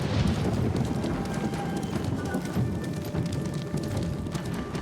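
Rapid, continuous hoofbeats of a galloping horse in the video game Ghost of Tsushima pound steadily throughout, loud and close, with a faint rain-like hiss underneath.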